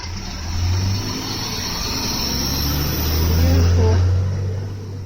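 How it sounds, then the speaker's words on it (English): A heavy garbage truck rumbles past nearby with a deep engine drone that swells to its loudest near the end before fading slightly. "Garbage truck, or tank, as I see them now"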